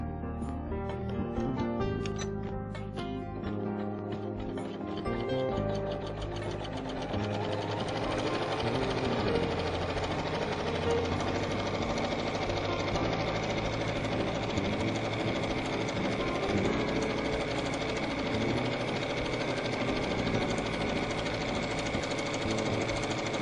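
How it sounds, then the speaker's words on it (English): Embroidery machine stitching a tack-down line on fabric stretched in a hoop, a steady rapid mechanical chatter running continuously and close, with no talking. "we are going to place this over the hoop, and we're going to stitch a tack down"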